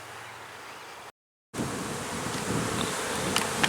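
Honeybees buzzing around a beehive during a colony split, a dense continuous outdoor drone broken by a brief gap, with faint rustling over the swarm.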